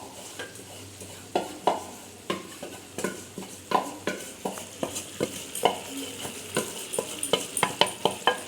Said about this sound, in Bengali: এবার আমি মাংসটা ঢেলে দেব।